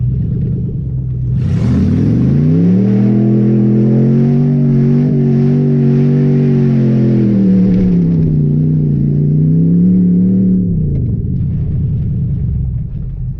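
Straight-piped Hemi truck engine revving hard and steadily for about ten seconds, a loud, close, deep rumble whose pitch rises and dips while the tires spin, then settling back to idle.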